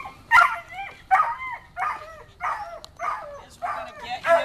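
Dogs bark and yip in repeated sharp bursts at a training session, about six evenly spaced barks at moderate volume, with a Welsh Terrier being trained nearby.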